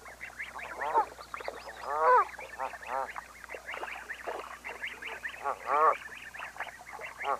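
Young Canada goslings, only days old, feeding with adult geese, give a chorus of repeated high, rising peeps and calls, fairly close and busy, over a quiet background.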